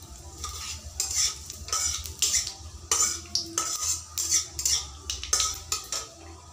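Nigella seeds hit hot oil for tempering, crackling and sizzling in sharp repeated bursts while a spoon scrapes and stirs the pan, close and fairly loud.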